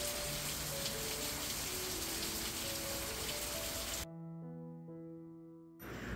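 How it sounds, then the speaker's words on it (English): Steady rain falling outside during Hurricane Milton in central Florida, a dense continuous patter that fills the first four seconds before cutting to a quieter indoor hum with faint tones. "It is now 4:15 and it is still raining."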